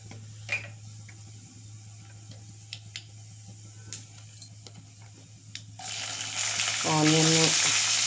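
Onions go into tempering oil for masala oats, starting as a faint sizzle with scattered light clinks from utensils, then swelling into a loud, bright frying hiss over the final seconds, joined by a brief tonal beep.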